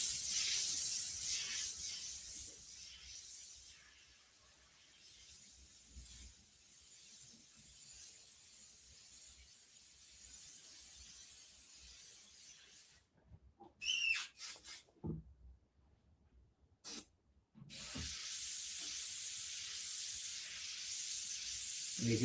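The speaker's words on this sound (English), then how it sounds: "you can see how I sketch with the airbrush. So I just move back and forth, trigger on and off." An airbrush spraying paint for a black hole piece, a steady soft hiss in back-and-forth strokes with the trigger cut on and off, leaving short silent gaps before the spray resumes.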